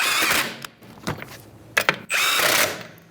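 Impact wrench spinning on 21 mm lug nuts to lock the rear wheel of a 2010–2013 Kia Soul during a brake caliper job, with two long, loud whirring bursts at the start and end and short buzzes and clunks between them.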